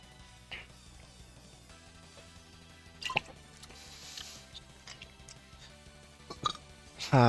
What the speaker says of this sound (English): Why wouldn't the hiccups leave?